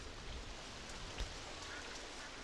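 Steady rain patters in the RollerCoaster Tycoon 3 Soaked theme park game, a soft, even, continuous wash of drops with a faint bump midway.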